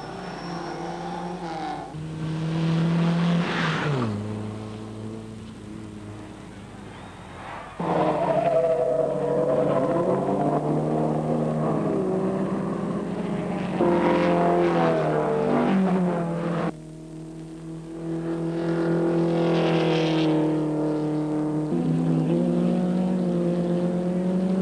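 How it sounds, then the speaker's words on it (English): Race car engines at the 1965 Sandown six hour race at Sandown, Australia, rising and falling as cars accelerate, shift gears and sweep past, with loud passes separated by brief lulls and no talking. "George Reynolds in the Jane car decides to rejoin the race."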